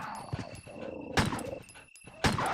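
Three hostile dogs in a Resident Evil game snarl and bark in short, loud bursts amid combat sounds and game ambience, with two sharp attacks standing out clearly.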